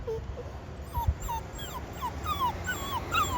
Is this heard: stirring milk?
no